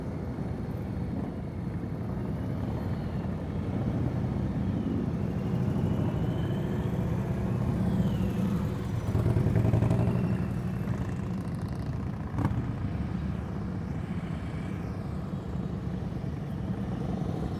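A motorcycle engine runs steadily near idle during slow-speed riding skills practice, a continuous low hum with slight throttle swells and no talk.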